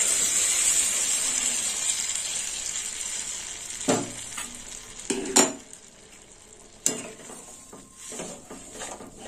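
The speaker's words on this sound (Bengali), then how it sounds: "এবার পুরো ডালটা ঢেলে দেবো।" Masoor lentils cooked with papaya are poured into a hot pan, setting off a strong hiss that fades over several seconds, with a few distinct metallic clinks and scrapes of a utensil against the pan, close by and with no talking.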